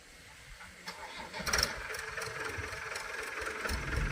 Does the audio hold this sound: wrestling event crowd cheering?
no